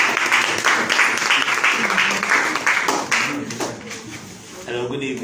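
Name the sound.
audience applause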